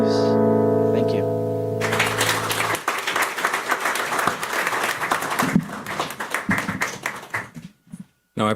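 Audience applause at the close of a sung performance at a conference opening session, starting after a held final note and continuing as dense clapping that thins into scattered claps before a brief burst at the end.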